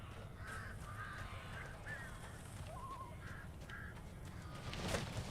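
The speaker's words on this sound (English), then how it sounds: "There's the birds." Crows swarming a house in the game Alan Wake: a run of short, faint caws in a series, set against a steady low background rumble.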